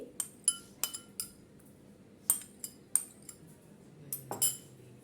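Metal spoon clinks sharply against a bowl while custard, boiled noodles and sago are stirred together for falooda, a string of irregular close taps and chimes with quiet pauses between them.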